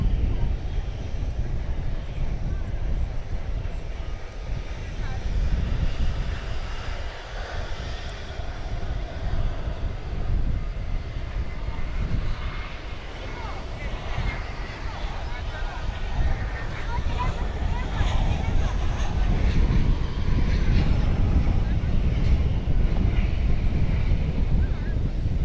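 An Airbus A321 on Flight 1865 from Houston lands at DFW Airport at night, its broad engine roar holding steady and loud throughout, with low rumble and some wind buffeting on the microphone.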